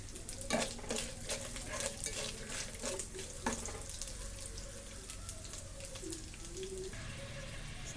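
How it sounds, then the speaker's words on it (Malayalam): Coconut pieces fry in a pan for a jackfruit payasam, giving a continuous soft sizzle with intermittent stirring scrapes and clinks close to the microphone. "ആദ്യം നമുക്ക് തേങ്ങാക്കൊത്തിട്ട് വറുത്തെടുക്കാം."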